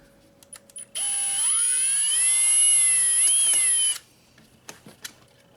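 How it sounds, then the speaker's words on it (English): A small power drill whirs steadily for about three seconds drilling a tiny hole in a Honda Accord glove box hinge, its pitch rising as it spins up, then cuts off; faint clicks before and after. "Just going to drill a tiny little hole."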